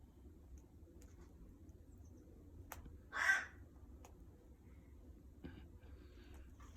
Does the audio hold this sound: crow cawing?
yes